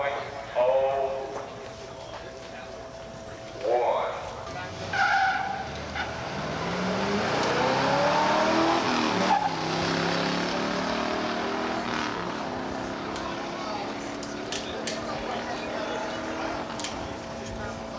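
A 1985 muscle car with a 4-speed makes a drag run at Beech Bend, its engine roaring up through the gears with tire squeal, loud and sustained. A voice talks over it.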